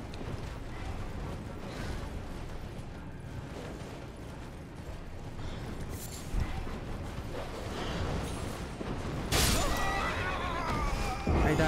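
A horse whinnies amid busy Elden Ring game audio in Mohgwyn Palace, with mechanical creaking and clanking layered throughout and a louder burst near the end.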